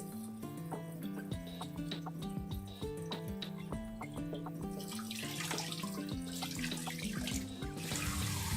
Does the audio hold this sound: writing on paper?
no